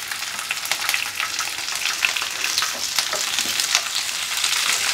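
Onion and medium-size capsicum chunks frying on high flame, a steady loud sizzle with faint stirring clinks running throughout without pause.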